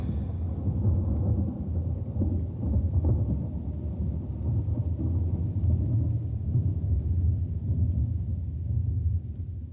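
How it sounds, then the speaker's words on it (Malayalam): Deep, continuous rumble of thunder rolling over a heavy downpour, low and steady with no voices. "വലിയ മഴയുടെ മുഴക്കമുണ്ട്."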